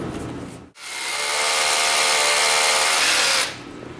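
Rock drill boring a blast hole in stone, a steady loud whine and hiss running for about three seconds after a brief stop, then cutting off.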